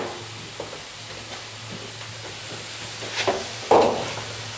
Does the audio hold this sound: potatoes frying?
yes